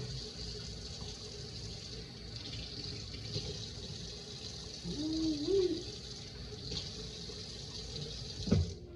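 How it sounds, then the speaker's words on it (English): Hot water running from a kitchen tap into a sink while food is prepared for mealworm and beetle colonies, a steady close hiss lasting throughout, with a brief knock near the end. "I did not know I had the water on hot."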